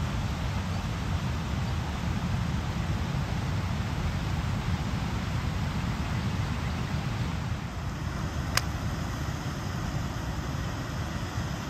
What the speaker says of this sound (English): That water is really moving there. I don't think I'll cross that stream.